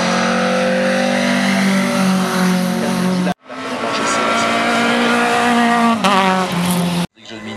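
Opel Kadett and Renault Clio hill climb race cars at the Ayent-Anzère course, engines loud and sustained as they drive past, with revving and tire noise, cut into two long passes with a brief gap and a voice talking over them.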